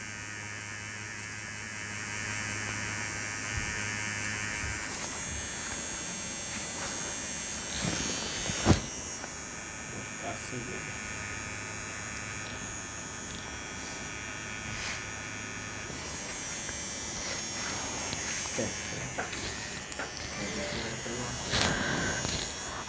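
A tattoo machine with a liner needle applying white ink on a lion tattoo, a steady close electric buzz and hum running throughout, briefly interrupted, with a sharp click partway through.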